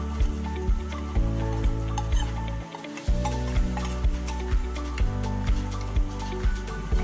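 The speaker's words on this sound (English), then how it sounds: "Now mix it well, and I am adding the ground masala." Ground masala fries and is stirred through cooked vegetables for a veg kurma in a pan, a steady sizzle broken by regular scraping strokes of a spoon, close and continuous, with one brief gap midway.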